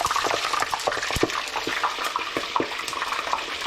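Water droplets from metal tongs sputter and crackle in hot frying oil for Korean fried chicken, a dense steady sizzle with sharp pops and spits throughout, close and fairly loud.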